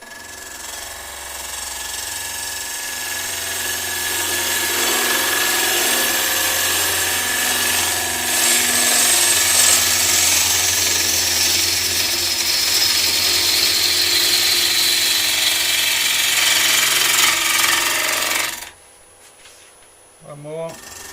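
A wood lathe spins at about 1400 rpm while a bowl gouge cuts a bowl, a steady motor hum under a scraping, hissing cut that runs continuously before stopping abruptly near the end, leaving quiet with faint sounds.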